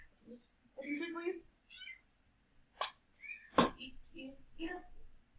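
A pet cat named Leia gives several short, close meows spaced across a quiet room, with a soft human voice murmuring between them.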